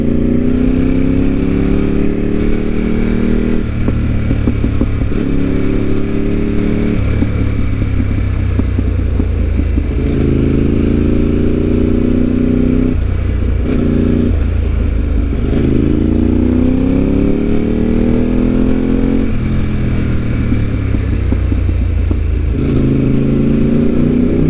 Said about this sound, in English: this Terminioni and Ducati V-twin combination is incredible.